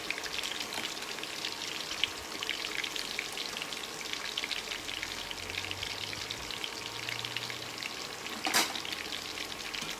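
Tofu frying in a wok: a steady, close crackle and sizzle of hot oil runs throughout, with a brief sharper spatter near the end and no talking.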